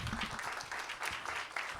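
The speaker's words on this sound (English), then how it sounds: "A round of applause, everyone." A short burst of audience applause at an academic research colloquium, steady dense clapping held at an even level throughout, with no talk over it.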